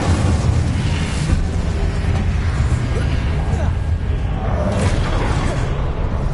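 Fiery spell burst from Incendio cast in Hogwarts Legacy, a dense whooshing roar with booming low rumble that stays loud and continuous throughout, with speech faintly mixed in.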